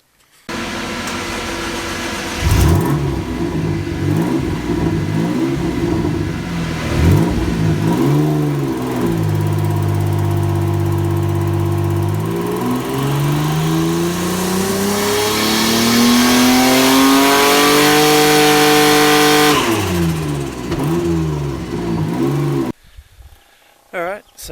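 A GTO race car engine revs on a dyno: the note climbs and falls through several short blips, then settles into long, loud sustained pulls that rise in pitch before the engine cuts off abruptly.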